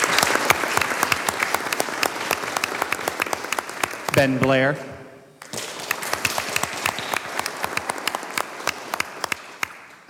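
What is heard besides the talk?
applause at board of education meeting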